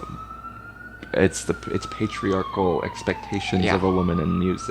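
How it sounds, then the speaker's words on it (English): A siren passes outside, its wailing tone sliding up and down continuously beneath close conversation between two people. "pardon the siren"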